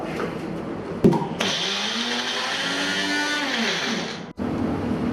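Mixer grinder briefly crushing grated coconut with a little turmeric, a loud close whirring motor that starts after a click, runs for about three seconds and then stops abruptly.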